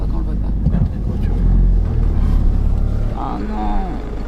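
Cars pass on a road at night with a low rumbling engine drone that swells and fades. People talk in French over the traffic.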